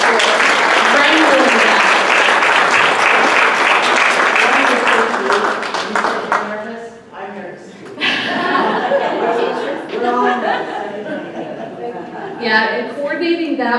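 An audience at a literacy council student and tutor appreciation assembly applauds loudly for several seconds, then the clapping thins out while a speaker talks and a few people chuckle.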